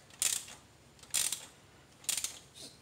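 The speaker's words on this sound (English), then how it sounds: "just put your ratchet and just try to keep it straight as possible" Ratchet turning a spark plug on a 2010 Kia Soul wagon, three short bursts of metallic clicking, close and moderately loud, with no talk.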